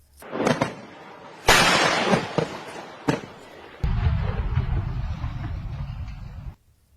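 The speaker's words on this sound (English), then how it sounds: "Take a look at the effect that the Qassam rockets create when they land" Qassam rockets exploding on impact: a few sharp, loud blasts followed by a sustained low rumble that lasts several seconds before cutting off abruptly.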